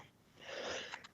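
A single short sneeze in a city council chamber, a quick breathy burst rising and cutting off within a second, faint and somewhat distant.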